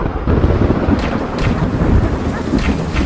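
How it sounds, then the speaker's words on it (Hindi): Heavy rain pours down in a dark night storm, a dense loud wash with rumbling thunder and gusts of wind, several crackling bursts rising above the downpour, no voices. "बहुत बारिश हो रही है"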